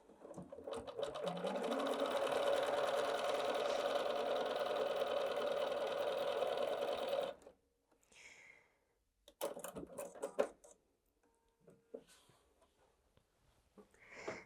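A Bernina 770 QE Plus sewing machine stitches through thick fabric in one long, steady, loud mechanical run that stops abruptly, followed by a few short bursts of stitching.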